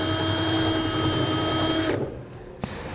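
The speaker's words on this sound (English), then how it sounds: "Once you have your pilot holes drilled on the bottom" Power drill boring pilot holes up through the underside of a 2015 GMC Sierra truck frame for a Curt gooseneck hitch, a loud steady whine that cuts off near the end, then a single sharp knock.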